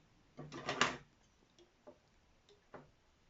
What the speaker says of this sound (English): So I just cut them with a pair of scissors.